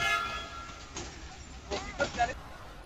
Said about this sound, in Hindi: हम लोग का ट्रेन आ गया